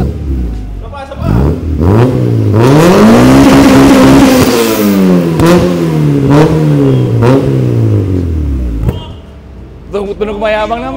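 A car fitted with a full aftermarket exhaust and a VTEC engine revs loudly and repeatedly, rising and falling in pitch across several blips before settling, with brief talk near the end.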